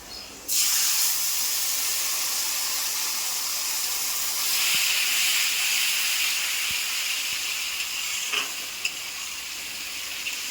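Mustard paste tipped into a pan of fried onions for a fish-roe dish, setting off a loud, steady hiss and sizzle that swells midway, with a few faint clinks of stirring.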